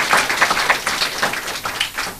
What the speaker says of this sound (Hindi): ताली बजाएं, परमेश्वर को धन्यवाद दें।